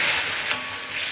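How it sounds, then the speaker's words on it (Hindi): Water hits a hot pan of masala corn with a loud, close sizzle and bubbling hiss that carries on steadily, with no voices. "इसके अंदर हम पानी डालेंगे, आधा कप जितना पानी"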